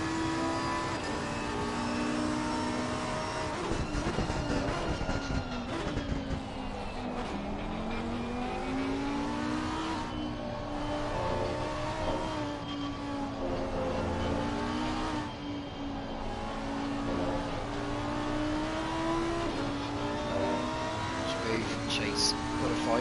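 Onboard race car engine in a racing video game at Indianapolis, a loud, constant high whine that rises and falls through gear changes and corners, with brief squeals, while a commentator talks over it.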